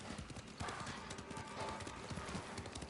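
Horse hooves clip-clopping steadily in the video game Ghost of Tsushima, a continuous rhythmic trot under ambient game sound, moderately close.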